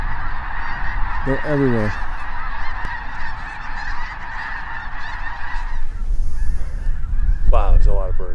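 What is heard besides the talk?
snow geese honking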